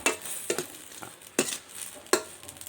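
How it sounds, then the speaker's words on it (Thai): Stink bugs being stir-fried in hot oil in a pan, giving a steady soft sizzle broken by several sharp scraping stirs at uneven intervals. "ทอดแม่แข้งเด้อขัวน้ำแห้งเขาจะเอาน้ำมันใส่"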